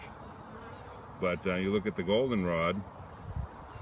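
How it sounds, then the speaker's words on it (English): Honey bees buzzing at a hive entrance in late summer, wings beating hard while they cling to the entrance board. A loud, close, wavering buzz swells up mid-clip and fades, with someone speaking quietly before and after it. "They're sitting there and their wings are flapping as fast as they can, but the legs are holding on to the entrance board there."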